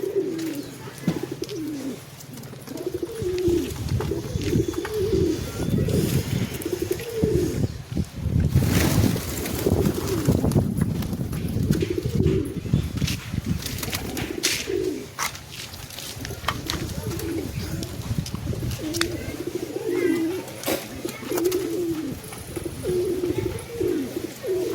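Pigeons coo in a steady, repeating murmur throughout, low rolling calls layered over one another with a soft windy background, close and fairly continuous.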